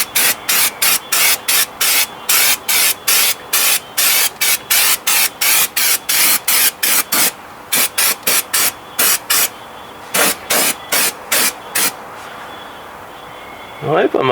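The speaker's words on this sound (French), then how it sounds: "le spray bitume" Bitumen underbody coating sprayed from an aerosol can onto the floor of a Lada Priora 2172 estate, in a long run of short, loud hissing bursts with brief gaps, followed by a pause and a few more sprays.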